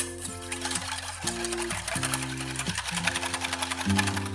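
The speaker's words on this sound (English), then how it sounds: "you want to whisk this until it's just nice and frothy" A small whisk beats three egg whites in a bowl until frothy for coconut shrimp, making rapid, even clicking strokes that hold a steady rhythm over soft background music.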